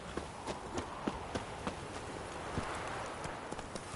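Steady horse hooves clip-clopping at a walking pace in a medieval fantasy video game, regular close taps over a soft ambient background with no talk.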